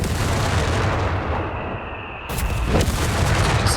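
British mortar in Company of Heroes 3 thumps out heavy booming rounds, with a loud blast opening the clip and another deep report near the end over a rumbling battlefield backdrop.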